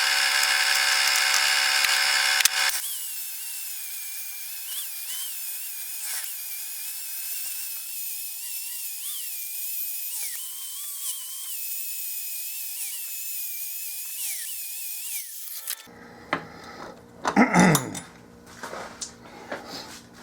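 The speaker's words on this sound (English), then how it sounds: "So I'm going to proceed to clean and grind this up." Steel with heavy mill scale ground clean on a belt sander, giving a loud steady high-pitched whine for about fifteen seconds that then cuts out, leaving scattered clattering and handling noises.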